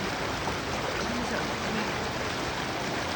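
Creek water rushes steadily after heavy rain, swollen over its banks and backed up against a dam of branches, a dense, continuous roar close by with no letup.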